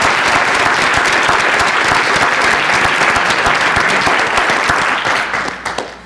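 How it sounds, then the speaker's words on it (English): Loud, close applause from a school board meeting audience welcomes a new elementary school principal, sustained dense clapping that thins and fades in the final second. "Please give David a round of applause."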